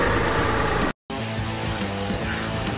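A car pulls forward with a steady engine hum and low rumble, fairly close, broken by a brief gap of silence midway; no talk over it.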